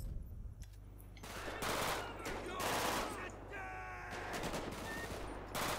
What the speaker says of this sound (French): J'essaie de lancer une grenade.